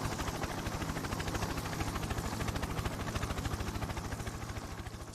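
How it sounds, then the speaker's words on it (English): A helicopter takes off in the game Akazu no Ma, a steady rapid rotor chop with a dense engine whine, evenly pulsing and fairly loud throughout with no voices. "Hey, the helicopter's gonna take off and leave us here?"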